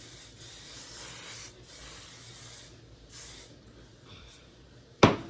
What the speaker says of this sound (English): Now I'm about to spray my Cantu Style Stay.